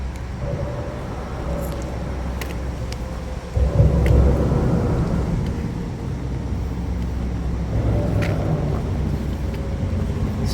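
A busy highway heard near the Appalachian Trail on a rainy day gives off a continuous roar of traffic, with a louder passing vehicle surging midway, and no voices.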